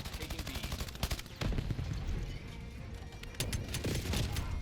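An AK rifle fires in a Call of Duty multiplayer match, with rapid loud automatic bursts and sharp cracks in repeated strings, mixed with other weapons and game effects.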